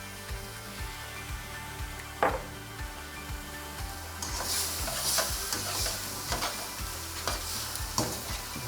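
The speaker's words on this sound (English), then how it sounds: "Just want to cook that kale just a little bit more" Tomatoes, garlic and kale simmer in marinara in a pan, a soft steady sizzle with occasional spoon scrapes and knocks, growing a little brighter and busier partway through, no talking.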